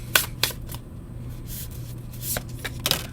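Tarot cards being shuffled by hand in a quiet room, with several short crisp riffling bursts separated by pauses, close and fairly soft.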